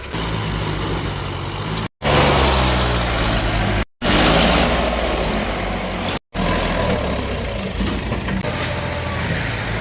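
A Mahindra tractor engine runs outdoors with a steady, loud, rumbling drone that holds throughout, broken by three brief cutouts.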